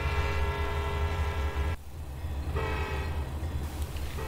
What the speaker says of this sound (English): this CSX coal train snuck up on me and raced the train